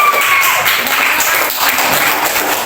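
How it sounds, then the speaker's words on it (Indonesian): A classroom audience applauds presenter Nadi after a group presentation, with dense, steady clapping that stays even and fairly loud throughout and no talking over it. "Oke, beri aplaus buat Nadi."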